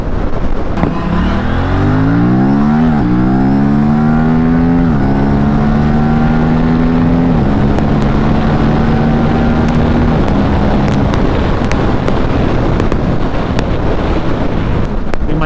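Motorcycle cruising along a highway, its engine drone rising and falling through gear changes under heavy, constant wind rush against the rider's microphone, loud and close, with no talk.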